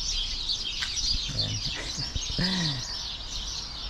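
Birds chirp steadily outside a house in New Zealand, their dense high calls filling the background while someone speaks briefly in the foreground.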